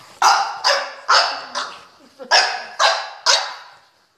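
Bulldogs bark close by in a steady run of about eight loud, hoarse barks at roughly half-second intervals, with brief pauses between them.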